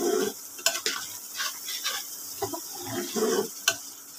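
Green chili paste and spices fry in a pan for a catfish curry with mustard paste, a steady sizzle under scraping spoon strokes and occasional metallic clinks, close and busy throughout.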